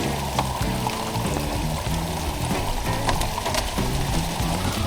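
Clean spring water filtering down from a forest in Yeoor Hills pours steadily into a bottle, a loud, close, continuous gurgle and splash with no talking over it.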